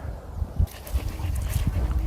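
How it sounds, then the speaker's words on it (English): A pet dog near a garden plot greenhouse makes soft whimpers and panting breaths in short irregular bursts, close by, over light background rumble. "This is our dog here."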